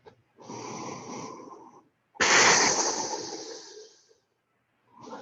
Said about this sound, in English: Breath in, breath out, out, out.